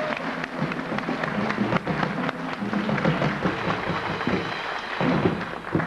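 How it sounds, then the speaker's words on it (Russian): Studio audience applauding guests on a Russian New Year 2002 lottery TV show; dense, steady clapping fills the whole stretch with a few louder thumps, fairly close and sustained. "я хочу услышать, как мы аплодируем нашим гостям"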